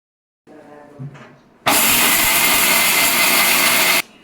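A mixer grinder powders roasted spices for sambar in a loud, steady, close whir lasting a couple of seconds, then cuts off abruptly, preceded by faint handling clatter.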